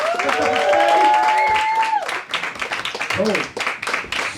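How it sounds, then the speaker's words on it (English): A comedy show audience in London applauds the comedians, with a drawn-out whoop or cheer at the start, then a steady crowd clapping with voices mixed in. "Let's give them all a huge round of applause to make way."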